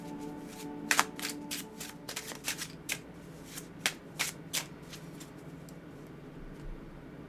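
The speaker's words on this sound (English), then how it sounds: "So I will shuffle the deck" Tarot cards riffle and snap in a series of quick crisp bursts, close by, with a few scattered pauses between shuffles and no speech.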